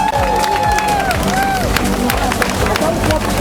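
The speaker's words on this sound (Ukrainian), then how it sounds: "бурхливими оплесками та оваціями привітати" A large crowd at a charity half marathon in Mukachevo applauds and cheers loudly and continuously, with shouts and whistles rising above the steady clapping.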